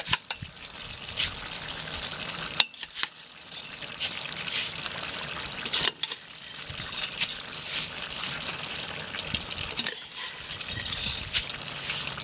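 Water poured off rice in a pot for Samarkand pilaf, a close, continuous trickling and splashing pour with brief pauses, no voices over it.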